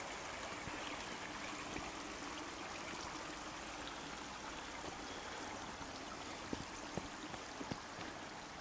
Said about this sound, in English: there's this beautiful creek running